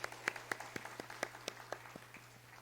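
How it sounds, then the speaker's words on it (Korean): A church congregation at Sunday worship claps in a steady rhythm, the sharp claps spaced about a quarter second apart, quiet and somewhat distant over a low constant hum. "우리 다시 한번 하나님께 영광의 박수 올려드리겠습니다"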